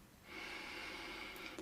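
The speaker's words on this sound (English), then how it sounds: "Breathing in" A single deep inhale through the nose during a breathing meditation, soft and close, drawn steadily for about a second with nothing else audible.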